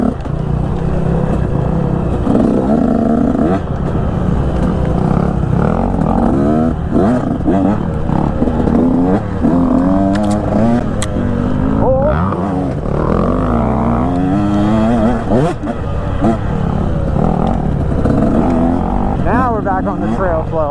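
Two dirt bikes, a 250F four-stroke and a KTM 125 two-stroke, ride along a trail, their engines droning and revving continuously under wind noise while a rider talks over them.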